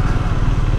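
A Triumph Scrambler 400X single-cylinder engine chugs at low revs in third gear just under 2000 rpm, loud and close with a rapid, slightly knocking pulse.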